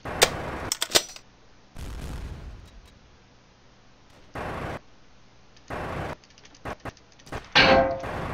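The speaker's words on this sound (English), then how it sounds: "Yeah, they're shooting at me." Gunfire aimed at the player in the World War II Online: Battleground Europe game, in a scout car, with sharp metallic impacts and short bursts of shots spaced apart by quiet gaps, the loudest cluster near the end.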